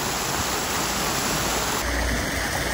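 Water runs steadily from a pool water slide and grotto at a home in Lake Havasu, making a loud, continuous splashing rush like a small waterfall, with no talking.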